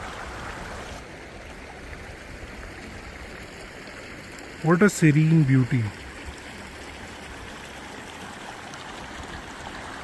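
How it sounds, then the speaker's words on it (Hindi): A mountain river flows in a steady broadband rush near a Himalayan meadow, continuous throughout, with someone speaking briefly over it midway. "ये जो आवाज़ आप सुन रहे हो, ये इस बहते हुए पानी की है।"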